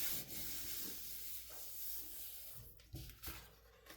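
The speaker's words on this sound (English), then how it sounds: "I'll turn it over and just kind of give it a good rub." Hand rubbing over a very thin paper border, about an eighth of an inch wide, in a card-making craft setting: a soft, close, continuous scratchy friction with a few brief sharper scuffs near the end, and no talking.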